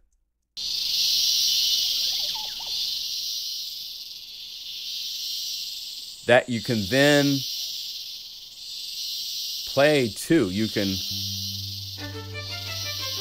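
A steady, shrill insect buzz like a cricket chorus fills the clip, broken twice by a person talking over it.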